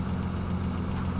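A two-cylinder 650cc engine built from a Hayabusa, running without coolant, gives a steady low rumble like a close idle, with no talk over it.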